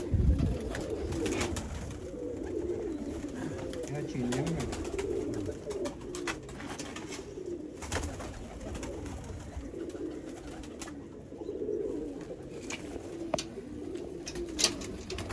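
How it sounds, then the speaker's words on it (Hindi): Red-eyed pigeons at a loft in the Sialkot border area coo in low, throaty, repeated calls, several birds overlapping close by, with faint rustling and wing sounds throughout. "ये जी दोस्तों नेक्स्ट कबूतर आ गया दोस्तों।"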